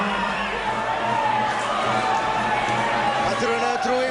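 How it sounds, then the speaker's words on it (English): Indoor cricket crowd at the 2004 Indoor Cricket World Cup men's grand final, Australia vs Sri Lanka, cheers a run in a steady, dense roar of voices with a commentator talking over it. "They're going to cheer every run."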